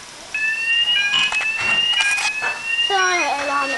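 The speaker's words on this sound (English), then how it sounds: "Fire alarm is now sounding." A fire alarm sounds during a system test, loud steady electronic tones with a sweeping pitch change near the end, continuous and close.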